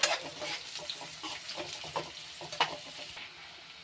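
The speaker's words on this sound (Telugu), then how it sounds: "ఆనియన్స్ ఫ్రై అప్పుడే కరివేపాకు అండ్ పచ్చిమిర్చి వేసుకుని దీంతో పాటే ఫ్రై చేసేసుకోవాలి" Onions frying with curry leaves and green chillies, a steady close sizzle with scraping stirs and a few sharper crackles, no voices over it.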